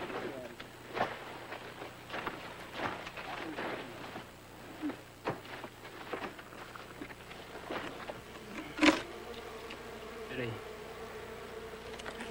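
Stingless bees buzz around a hive cut from a tree in the Amazon rainforest and carried to a campsite, a steady insect drone with bees passing close, scattered sharp knocks and clicks, and a faint bird call.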